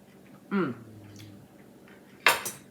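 A metal fork clinks twice against a dish while a wild turkey dinner is being tasted, two sharp, close taps separated by a quiet pause.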